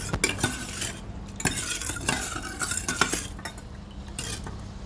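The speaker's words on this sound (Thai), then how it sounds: "คนให้ส่วนผสมเข้ากันแล้วเราค่อยเอาไปตั้งบนเตานะคะ" A utensil stirs the ingredients for a Thai rice-vermicelli noodle dish together in a pan before it goes on the stove, giving repeated close scraping and clinking strokes with no talk.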